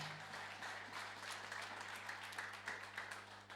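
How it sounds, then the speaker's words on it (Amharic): Church congregation applauding and clapping together in praise of the Lord during a sermon, a steady dense wash of many hands, fairly loud and continuous with no talk over it. "አጨብጭቡ ለጌታ"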